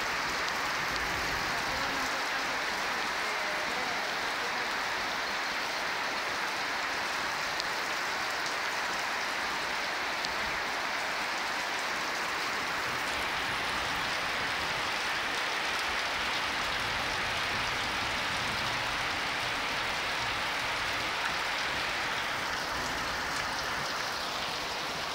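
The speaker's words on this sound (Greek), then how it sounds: "Εδώ και κάποια ώρα η βροχή δεν λέει να σταματήσει με τίποτα." Heavy, steady rain pours down in Triantafyllia during a flood, a dense unbroken hiss of water lasting the whole stretch, loud and close with no voices.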